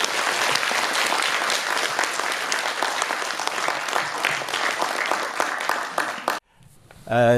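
An audience at a history lecture claps loudly and steadily for several seconds, then the applause cuts off abruptly into quiet.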